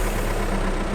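Car engine idling steadily with a low, rough, continuous rumble, close and loud, no start-up audible and no breaks over a short stretch.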